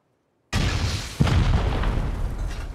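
After a moment of silence a video-game rocket bursts in a sudden loud explosion, followed by a sharp secondary crack and a rumbling, crackling tail that slowly fades.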